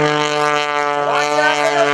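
The 350-horsepower engine of an MX2 aerobatic plane at an airshow, heard as a loud, steady droning buzz that bends in pitch as the throttle is worked.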